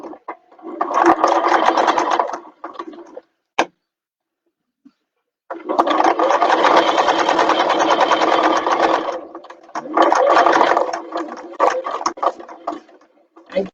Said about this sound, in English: we're going to start sewing the 2 gussets together